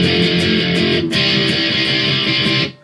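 Electric guitar plays the opening of the chorus of a song, a dense, loud, distorted strummed texture that runs steadily with a brief break near the middle before cutting off at the end.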